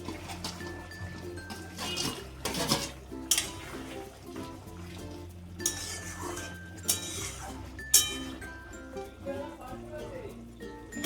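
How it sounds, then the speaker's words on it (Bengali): Fried paneer pieces go into a capsicum curry in a pan and get stirred, with scattered metallic clinks and scrapes of a spoon against the pan, faint sizzling beneath, and someone talking quietly over the cooking. "আমি এবারে এর মধ্যে দিয়ে দেবো ভেজে রাখা পনিরের টুকরোগুলো"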